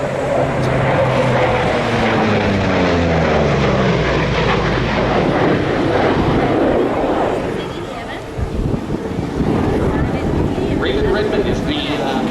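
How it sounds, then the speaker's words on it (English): A P-38L Lightning, a twin-engine propeller fighter, flies past at an airshow: a loud, droning roar with a falling pitch as it passes, then a rougher rumbling fade. "P-38L Lightning, the only Lightning that's flying in Europe"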